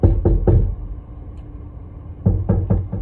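Knocking from inside a car trunk: two bursts of quick, heavy thuds, about three knocks each, separated by a pause, loud and close with no talking.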